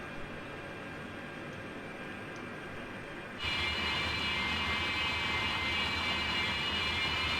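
Heavy transporter aircraft taxiing to park in a Scotland bush-flying sim game, a steady engine drone that jumps noticeably louder partway through and then holds a broad, constant roar.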